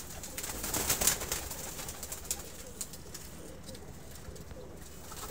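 Pigeons in Faisalabad, Pakistan coo softly nearby, a few low murmuring calls early on, then quieter outdoor background with occasional faint rustles.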